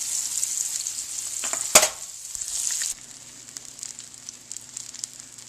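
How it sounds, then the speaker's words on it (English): Veal brains frying in a frying pan, a steady close sizzle with one sharp crackling pop, easing to a softer crackle, no talk. "This is the second set of veal brain that I put in the frying pan."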